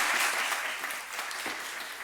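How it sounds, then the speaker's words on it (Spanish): Applause from the audience at a fashion-industry talk, a brief burst of many hands clapping that fades slightly as it continues, heard alone without voices. "Hoy con aplausos y todo."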